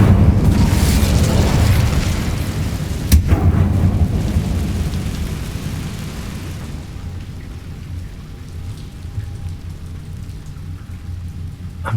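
An Incendio fire spell is cast in Hogwarts Legacy with a loud roaring, rumbling rush and a sharp crack, then fading into a quieter hiss.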